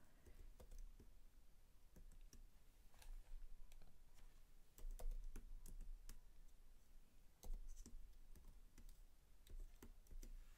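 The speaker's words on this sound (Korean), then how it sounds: "자동 입력 방지 문자를 여러분들 입력해 주시면 될 것 같아요" Fingers type captcha characters on a computer keyboard, a steady run of fast, close plastic key clicks with a few sharper taps and no voices.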